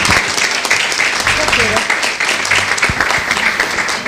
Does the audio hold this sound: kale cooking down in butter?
no